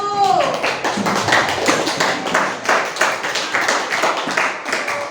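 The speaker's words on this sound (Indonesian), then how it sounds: "Beri tepuk tangan untuk kelompok 1" A class of students claps for a group that has just presented in a physics lesson, a loud close burst of hand claps in a steady, slightly uneven rhythm from a small group, with no one speaking.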